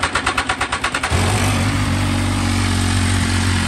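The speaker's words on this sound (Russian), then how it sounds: "Завелся мотоцикл отлично." An MV Agusta Dragster 800RR motorcycle cranks with a rapid pulsing starter whir for about a second, then catches and settles into a loud, steady, close-up idle.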